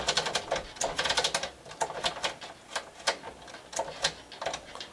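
On a Brother 260 bulky knitting machine, a punch card goes in and the row dial turns, producing a busy run of sharp plastic-and-metal clicks and clacks in irregular bursts, close and clear with no speech.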